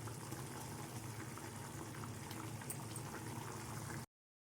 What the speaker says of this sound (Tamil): இப்போ பார்த்திங்கன்னா வந்து நல்லா கொதி வந்துடுச்சு.